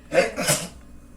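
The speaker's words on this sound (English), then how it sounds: "I sneezed into my arm." A single short, sharp sneeze, close by, with a quick breathy burst that fades out within a second.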